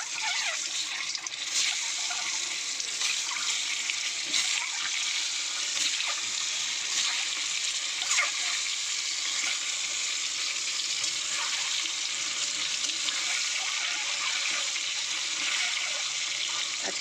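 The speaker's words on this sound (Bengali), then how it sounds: "ডিমগুলো কিন্তু এবার ভেজে নেব একে একে।" Boiled, peeled eggs coated in turmeric fry in hot oil in a wok with a steady, loud, unbroken sizzling hiss that lasts throughout, with no voices.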